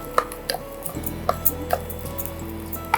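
Almonds and karuvelam gum dry-roasting in a pan make soft clinks, scrapes and light crackles from stirring, with a faint low hum beneath and no talking.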